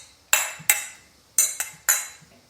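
Wine glasses of white wine clink together in a toast: five sharp, bright clinks in uneven pairs, close and clear, each ringing briefly before fading, with no talking.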